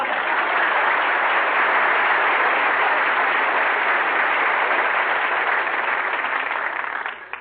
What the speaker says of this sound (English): I want to thank you for giving Don that big hand